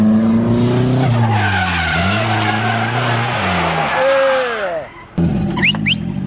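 A race car skids and squeals its tyres on a speedway track, a loud sustained screech with sweeping pitch over engine roar, breaking off near the end before a brief chirp of tyres resumes.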